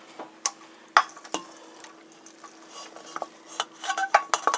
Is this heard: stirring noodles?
yes